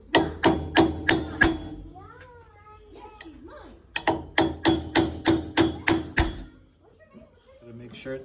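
A hammer taps a part into a Subaru STI engine during a build with new crankshaft and race bearings: two quick runs of about six sharp, ringing metallic strikes, close and loud, with a voice speaking between them.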